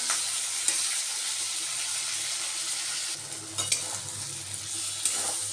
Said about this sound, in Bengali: এই যে মাছগুলো ভাজা বসিয়ে দিয়েছি